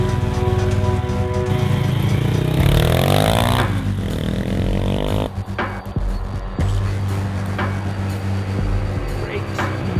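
Honda CBR125 race motorcycle on its first ride, the small engine revving loudly and continuously up close with gear changes and mechanical clatter, the pitch rising and falling throughout.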